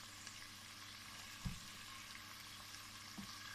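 Chicken frying in a pan, a quiet continuous sizzle with two soft utensil knocks and no talking.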